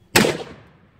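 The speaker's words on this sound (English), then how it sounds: "I moved my propane cannon down here by the house." A propane cannon bird scarer fires once near a house: a single sharp, loud boom with a short fading tail, then quiet.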